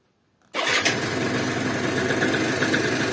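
A car engine cranks and catches, then settles into a steady, loud, close idle that runs on without a break.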